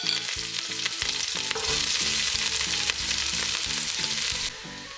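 Sliced onion and whole spices (cloves, cardamom, peppercorns) fry in a ladle of hot ghee, giving a loud, continuous sizzle with steady crackling close by, no talk.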